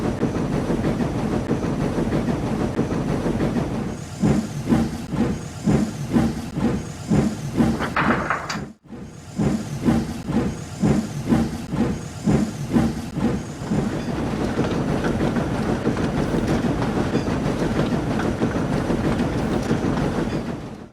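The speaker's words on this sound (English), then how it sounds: "your train is ready, Henry" A steam train rumbles steadily with a rhythmic clickety-clack of wheels over rail joints, loud and close, with a brief dropout midway.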